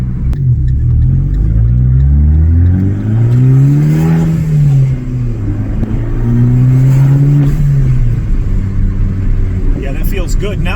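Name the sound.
Fiat 500 Abarth car engine while driving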